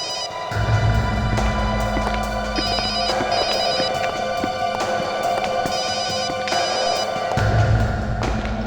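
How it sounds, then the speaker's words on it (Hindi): A telephone rings in repeated electronic bursts over a steady background hum, the tone loud and close. "फोन बज रही है।"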